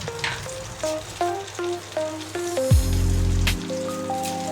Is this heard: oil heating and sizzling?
yes